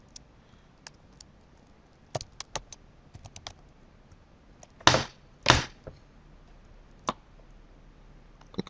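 Bursts of keystrokes on a computer keyboard: scattered single clicks, two louder clustered runs in the middle, then a few more isolated taps, close and clear in a quiet room with no speech.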